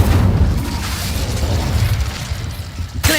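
An Incendio fire spell cast in Hogwarts Legacy bursts out as a heavy, booming whoosh that rumbles for about three seconds and ends with a sharper crackling hit, loud and close, with no talking.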